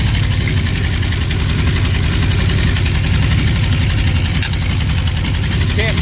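A Ford 351W V8 paired with a C4 transmission idles on a ground test stand before installation, a loud, steady, rumbling idle close by with a voice talking over it.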